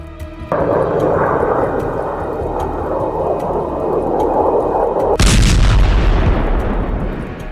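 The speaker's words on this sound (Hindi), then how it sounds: "испытании крылатой ракеты неограниченной дальности «Буревестник» с ядерной энергетической установкой" Burevestnik nuclear-powered cruise missile test launch: a steady roaring rush gives way to a sudden loud, deep blast that continues as a heavy rumbling roar, with no talk.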